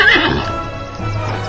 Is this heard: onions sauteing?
no